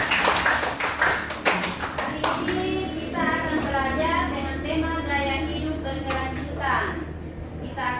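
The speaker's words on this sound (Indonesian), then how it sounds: "tepuk tangan untuk Alfat." Children in a classroom clap for a classmate during a school project lesson on waste crafts, a burst of rapid claps up front that thins into scattered taps while young voices chatter over steady room noise.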